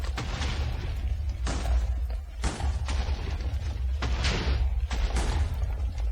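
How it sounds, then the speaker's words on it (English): A series of booming blasts from TNT exploding in the Minecraft video game, about five heavy bursts spaced a second or so apart, each with a sharp onset and rumbling decay. "Can't get tired of these explosions."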